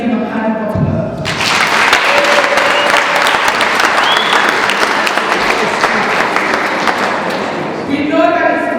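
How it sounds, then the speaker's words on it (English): Audience applause for youth development facilitators at a women's activism event swells after a moment of speech, a loud sustained burst of many hands clapping, then tapers as a voice returns at the end. "Let's give them a hand of applause."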